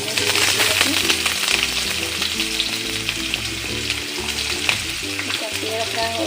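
Chopped onions hit hot oil with whole spices in a non-stick pan, raising a loud, continuous hiss and crackle, close up, with steady tonal sounds in the background.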